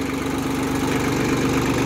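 Japanese ISEKI mini tractor fitted with a soil rotary tiller, its engine running smoothly at a steady idle, a constant close drone with no talk.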